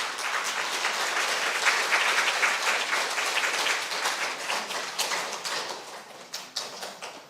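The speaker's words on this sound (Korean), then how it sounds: "박수로 우리 교수님 맞이하겠습니다" An audience at an academic lecture claps to welcome a professor, a steady bright applause that swells then gradually thins into scattered individual claps toward the end.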